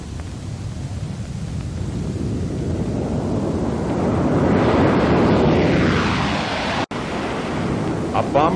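A Boeing B-47 Stratojet jet bomber roars past in flight, its loud jet noise swelling to a peak in the middle and then fading, with a broad wind-like rush and a brief cut near the end.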